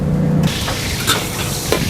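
Seafood kwetiau fries in a wok at a busy food stall, a loud close hiss and sizzle with scraping bursts as the noodles are tossed.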